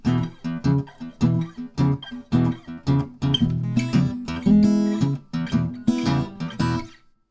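A strummed acoustic guitar plays a bluesy E-shape chord without a capo, ringing out in a steady rhythm, full and warm, with repeated strums and some sustained ringing, no voices.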